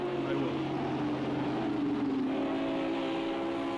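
GT3 race car engine noise from the Project CARS 2 racing game at the Sugo circuit hums as a steady, fairly muted drone beneath voices talking over it.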